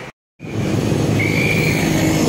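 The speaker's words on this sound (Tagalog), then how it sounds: "Grabe traffic pa uwi oh." Road traffic hums steadily on the drive home through heavy congestion toward EDSA and C5 in Taguig, a loud continuous engine and tyre rumble after a brief silent gap.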